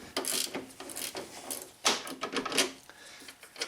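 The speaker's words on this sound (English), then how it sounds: "once I get it loose, then I can ratchet it." A hand ratchet clicks in short bursts while turning an engine mount fastener on a 2007 Nissan Altima, with quick mechanical ticking and uneven pauses, fairly faint and close, with no talk.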